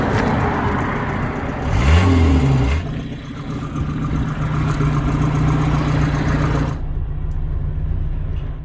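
Austin 1300 with its A series engine starting up and running steadily, a close, fairly loud mid-pitched engine note with a brief rev early on before settling into a continuous run.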